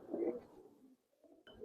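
Giribaz coloring pigeons at a pigeon farm give a brief, soft, throaty coo, a low rumbling burst that fades, a short pause, then another coo starting close by.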